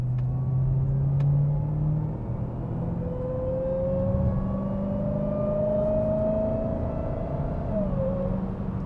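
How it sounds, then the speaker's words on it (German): A 717 PS Dodge Charger Hellcat accelerating, its supercharger whine climbing steadily in pitch over a deep engine rumble, continuous and close from inside the car, with no talking. "Dieses Kompressorgejaule macht kaum ein anderes Auto so wie so eine Hellcat."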